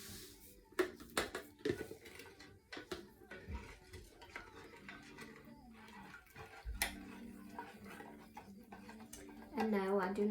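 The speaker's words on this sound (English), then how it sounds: "let's go ahead and mix these two together" Cold process soap batter being mixed in a container, with irregular clinks, taps and scraping from the utensil against the sides, fairly quiet and close, with a voice briefly heard near the end.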